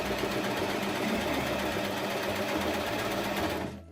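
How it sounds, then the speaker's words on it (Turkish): A sewing machine stitches the edges of a velvet prayer-bead pouch, running as a steady, close, continuous mechanical whir that stops abruptly at the end. "İlk önce şu ağız kısımlarını dikiyorum arkadaşlar makinede"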